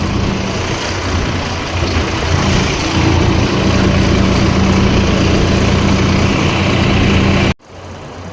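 Mahindra tractor engine running while driving out to a farm field, a loud, steady diesel drone with a constant low hum throughout, briefly dipping near the end before resuming.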